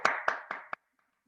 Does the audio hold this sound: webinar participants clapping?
yes